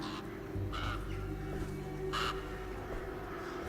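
Crows caw in a dark outdoor scene of the Alone in the Dark video game, two distinct harsh calls ringing out over a steady, eerie ambient drone.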